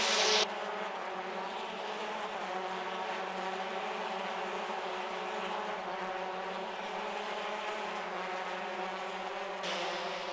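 Race cars at the 2016 Toronto race, a continuous loud, droning engine roar held steady throughout, with a brief brighter burst at the start and near the end as cars pass.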